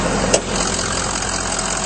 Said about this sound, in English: under the hood, it's a very clean engine bay, and it is running very smoothly.